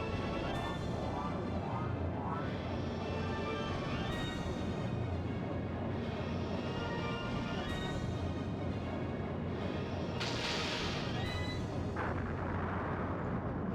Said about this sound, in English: I'm gonna fire my gunners out of the cannons.